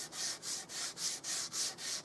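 Wood is sanded by hand in a workshop, a rasping rub repeated in about eight even back-and-forth strokes, close and steady with brief pauses between passes.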